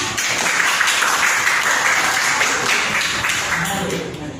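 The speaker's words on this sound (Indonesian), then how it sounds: "tepuk tangan sekali lagi untuk Nabila." Steady applause from a classroom group, a continuous wash of clapping that holds for several seconds with voices mixed in.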